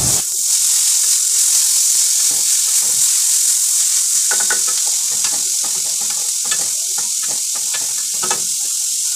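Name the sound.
frying grated carrot, capsicum and onion in oil in wok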